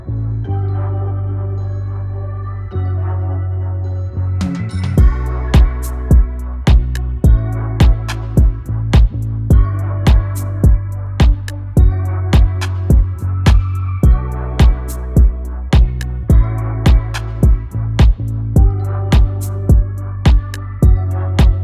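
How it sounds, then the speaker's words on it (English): A complete alt R&B beat made in FL Studio, with guitar: a sustained bass and tonal bed opens alone, then a steady, punchy drum groove with crisp ticks joins and repeats evenly throughout, with no vocals. "So this is the whole beat all together."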